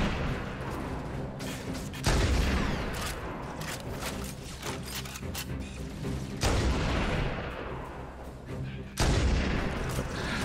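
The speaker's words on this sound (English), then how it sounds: "The needles on the needler explode after a little while." Needler needles detonating in Halo: Combat Evolved Anniversary, a series of sharp, loud booming blasts in quick clusters, each fading out, with game noise running between them.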